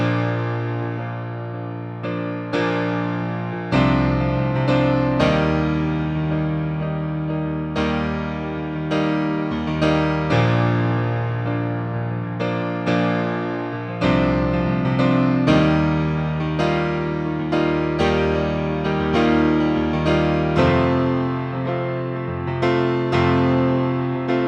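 Solo piano plays the verse of a song, a steady rhythm of repeated chords and struck notes that stays loud and clear throughout, with no talking.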